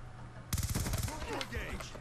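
Quick burst of submachine gun fire in Black Ops 2 on Wii U during a team deathmatch, a sharp rapid rattle of shots lasting under a second before fading, with gameplay noise around it.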